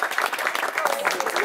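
Audience applause at a Club Pulsar Nazca anniversary gathering, a steady wash of many hands clapping at close range for the whole stretch, fairly loud and continuous.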